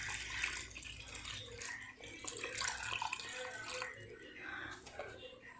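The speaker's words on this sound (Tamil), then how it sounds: "தேவையான அளவு தண்ணி, மீன் வேகக்கூடிய அளவுக்கு தண்ணி ஊற்றுங்க." Water is poured into a simmering fish curry in a pot, a steady liquid splash and trickle running through the whole stretch, moderately close, with voices talking over it.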